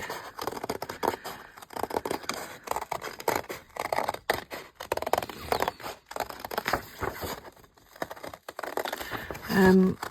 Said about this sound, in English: I've got a very light circle there that I'm going to cut out of the sheet music